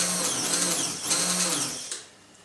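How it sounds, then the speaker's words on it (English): A hand blender whirs loudly through a sauce with a steady motor hum that wavers as it works, then cuts off near the end, leaving a quiet tail. "Let's just blend this then with the hand blender."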